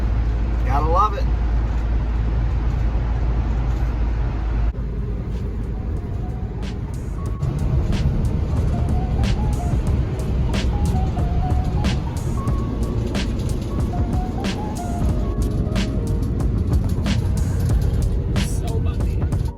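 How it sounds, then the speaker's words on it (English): A car drives through a snowstorm, giving a steady, loud low road rumble and engine drone that fills the whole stretch, with scattered small clicks and a brief muffled voice over the top. "just driving in a snowstorm"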